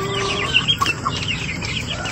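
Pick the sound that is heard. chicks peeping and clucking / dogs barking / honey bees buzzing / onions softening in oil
chicks peeping and clucking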